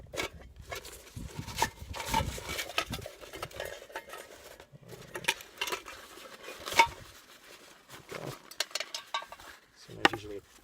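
Metal hobo stove and gasifier stove being pulled from snug storage, with light clinks, scrapes and rattles of metal parts knocking together in irregular bursts, fairly quiet and close, no talking.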